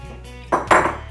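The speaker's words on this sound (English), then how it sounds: "I'm going to add some more Tutti Frutti on top of it" Tutti frutti pieces sprinkled by hand over cake batter in a baking tin give two short, close, rustling bursts of light patter against a faint low background hum.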